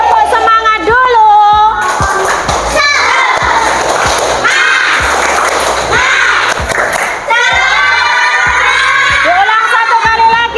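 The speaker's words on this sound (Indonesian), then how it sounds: "kita tepuk semangat dulu" A group of children claps in quick rhythmic bursts, with shouts and cheering voices mixed in throughout.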